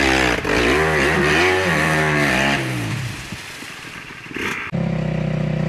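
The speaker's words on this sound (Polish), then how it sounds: "Ale niszczysz ten motor, Paweł." A nearby enduro dirt bike engine revs hard, its pitch rising and dipping, then drops to a rough idle before a loud blip of throttle.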